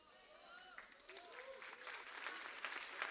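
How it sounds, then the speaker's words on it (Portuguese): A church congregation applauding, with clapping that swells toward the end while voices and melodic tones sound over it. "Já que vocês aplaudiram"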